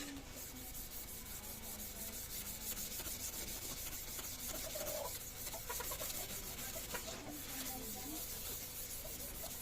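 A surface is scraped clean for a DIY amplifier build, a steady close rasping rub in quick repeated strokes that runs the whole time over faint background noise.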